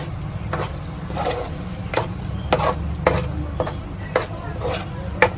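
Dabeli masala gets mixed in a pan with a spoon that scrapes and knocks against the metal in irregular strokes, the close scraping bursts standing out over a low background hum.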